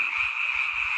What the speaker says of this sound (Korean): 개구리 우는 소리